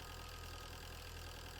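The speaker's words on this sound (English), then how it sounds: "We're just driving our Zamboni along." Steady low engine drone of a Zamboni ice resurfacer driving in Zamboni Simulator 2019, an even idling rumble with a faint rhythmic knock running unbroken throughout, no voices.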